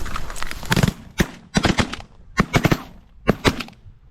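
Shotguns fire during a rainy duck hunt with eight hunters, a rapid volley of loud close blasts in several clustered bursts, some overlapping, with short gaps between.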